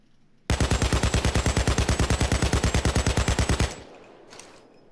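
AKM assault rifle in the video game Payday 2 fires one long sustained burst of about thirty rapid, evenly spaced loud shots, then stops abruptly, leaving a faint tail of quiet noise.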